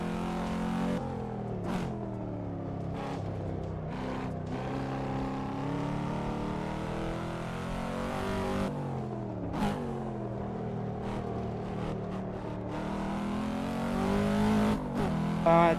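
A car drives on the Shuto Expressway in the Assetto Corsa racing simulator, its engine droning and shifting pitch as it revs and slows, with brief sharp ticks and a swell near the end, steady and moderately loud.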